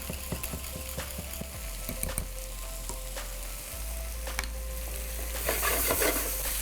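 Mushroom curry in Nepali style is folded and stirred in a pan, giving a steady close sizzle with scattered utensil scrapes and clicks and a low background hum, with no talking.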